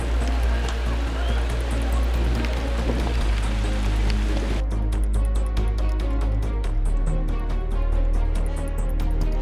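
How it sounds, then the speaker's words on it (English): Steady, dense rain falls in Tanzania, a loud continuous hiss of drops striking surfaces with no break throughout. "This is the weather condition of Tanzania as you see. Rainy."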